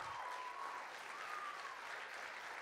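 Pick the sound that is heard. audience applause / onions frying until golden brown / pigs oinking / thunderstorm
audience applause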